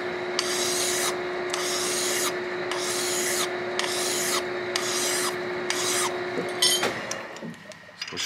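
A brass trumpet mouthpiece being filed down, with steady back-and-forth rasping strokes repeating about every half second at close range over a constant hum, ending in a few lighter scrapes and taps.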